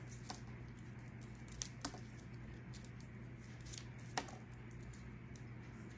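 Scissors snipping berries off bushes for a fall craft project: a few sparse, quiet clicks spread over a steady low hum, with no talking.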